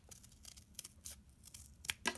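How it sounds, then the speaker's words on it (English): Scissors cut through thick, many-layered folded paper for a paper snowflake, giving soft, quiet snips and crunches in an irregular sequence, with a couple of sharper cuts near the end. "Now cut across this straight line here"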